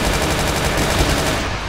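Dense, continuous rapid gunfire in the game Brutal Doom, weapons loaded with pricier ammunition, loud and close, a steady unbroken barrage that lasts nearly two seconds and is heard alone without talk.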